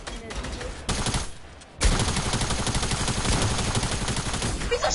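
Rapid automatic gunfire in a video game, dense bursts of shots that go on almost without a break, loud and close, with voices talking over it.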